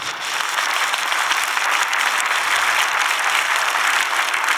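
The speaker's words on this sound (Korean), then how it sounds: "하나님께 우리 영광의 박수를 한번 하겠습니다" A congregation at a Korean church dedication and ordination service claps together in a steady, full round of applause that fills the hall without any talk.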